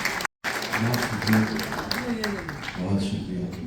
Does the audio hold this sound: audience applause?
yes